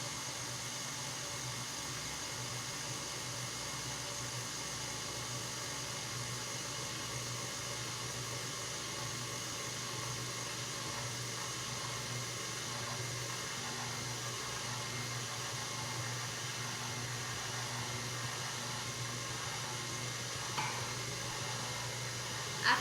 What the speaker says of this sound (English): just let the mixer run for a few minutes and then just scrape again